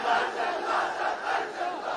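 A crowd chants religious slogans in unison, loud and close, in a steady rhythmic cadence of repeated shouted phrases with no separate speaking voice.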